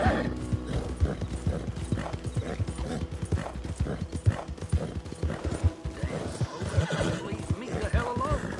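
A horse in the video game Red Dead Redemption 2 clip-clops at a steady pace with repeated close hoof strikes, broken by neighs and whinnies, with occasional background speech.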